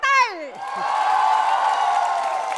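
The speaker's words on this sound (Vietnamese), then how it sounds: "xin một tràng pháo tay" A television studio audience bursts into steady, dense applause and cheering right after a voice's rising call, the clapping filling the room at a constant level.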